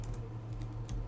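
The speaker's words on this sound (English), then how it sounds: "I'm just typing in random information." Keys clatter in quick, uneven bursts as someone types on a computer keyboard, entering records into a student scheduling database, with a steady low hum underneath and no talking.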